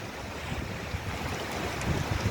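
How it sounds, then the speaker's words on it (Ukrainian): Strong wind buffets the microphone in a steady, dense roar with gusty low rumbles, no voices heard. "Тут такий вітер, мої дорогенькі."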